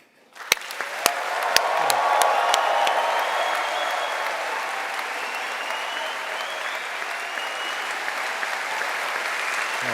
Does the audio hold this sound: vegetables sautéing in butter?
no